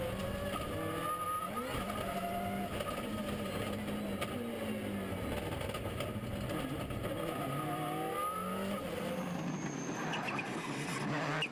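Subaru WRC rally car at a Belgian rally round, engine revving hard with shifting pitch sweeps as it races past, tyres scrabbling, loud and continuous throughout, fading slightly at the end.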